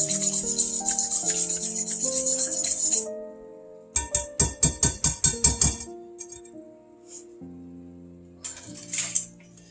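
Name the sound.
whisking an egg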